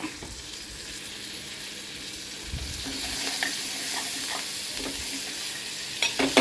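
Coriander and fenugreek leaves frying in a pan for a traditional curry, a continuous crackling sizzle with occasional stirring scrapes, swelling slightly midway and ending with a few sharper clinks.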